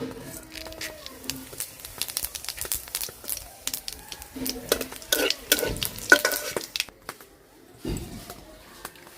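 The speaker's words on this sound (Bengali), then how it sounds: "এখন ফোড়ন দিয়ে দিব শুকনা মরিচ তেজপাতা আর মোটা জিরা" Dried red chillies, bay leaves and black cardamom are tempered in hot oil for a Bengali fish curry. Sharp crackles and spatters mix with a spoon scraping and stirring the pan in irregular close bursts, then pause briefly near the end.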